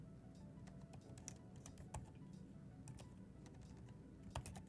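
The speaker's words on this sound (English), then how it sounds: "Don't judge my typing here" Keys clack steadily on a computer keyboard in a quiet podcast-recording setting, a faint, continuous patter of taps with a few sharper strokes standing out, no voices.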